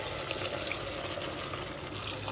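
Water pours steadily into a pot of dried fish curry, a soft continuous splashing trickle close by with no talking.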